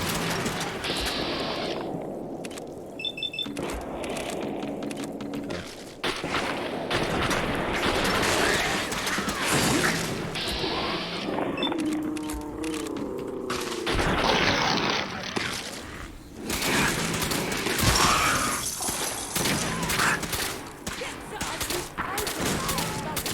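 Video-game gunfire from Fallout 4 rattles in sustained bursts and volleys, mixed with mechanical clanks and explosive booms, loud and dense over the whole stretch, with a voice briefly speaking over it.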